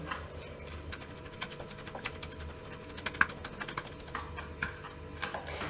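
Quiet, irregular light clicks and scrapes of a spoon stirring a dry spice mixture for marinated tomatoes in a bowl, with soft taps scattered over a faint background hum.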